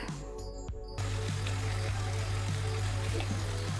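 Beef poured into a pan of hot olive oil bursts into a steady, loud sizzle that rises sharply after a brief quieter start and holds continuously to the end.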